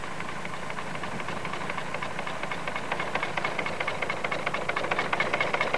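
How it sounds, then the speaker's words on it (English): A small rail engine chugs along a narrow track pulling a clay hopper at a tile works, its rhythmic knocking beats growing louder and more distinct as it approaches. "And the engine pulls it right along the track and up into the mill."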